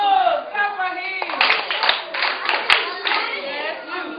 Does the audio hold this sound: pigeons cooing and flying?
no